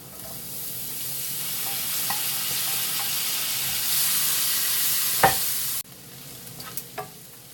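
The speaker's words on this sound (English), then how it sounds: "now that this flour has cooked off, we want to add back to the pan our sausages" Sausages going back into a pan of cooked flour gravy, giving a steady close sizzle and frying hiss with a few stirring scrapes and a clunk near the end. No one speaks.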